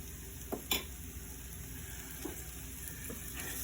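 Butter sizzles in a pan with venison and eggs, a steady close frying hiss broken by a couple of sharp clinks near the start and softer scrapes of stirring.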